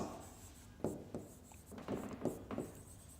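Numbers being written by hand during a fifth-grade math lesson on percentages, a series of short, scratchy strokes in quick bursts against a quiet room.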